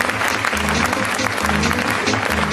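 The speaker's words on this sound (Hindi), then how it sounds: "आपकी जोरदार ताली होगी।" Steady, energetic audience clapping at a business seminar, dense and continuous throughout the short stretch with a low hum underneath.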